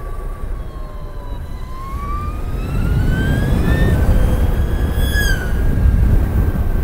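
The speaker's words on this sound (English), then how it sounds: "That was a very strange combination of electric bike and siren." A siren sweeps past while riding an Energica Experia electric motorbike, its wailing tone rising and falling over steady road and wind rumble, growing louder and nearer toward the end.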